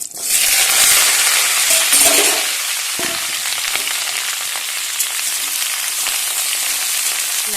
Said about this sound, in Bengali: তেলটা গরম হয়ে গেছে দিয়ে দিচ্ছি দুটো শুকনো লঙ্কা ডারচিনির ছাল দুটো এলাচ লবঙ্গ দিয়ে দেবো কেটে রাখা লাউ